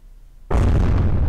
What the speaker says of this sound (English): that's a big blast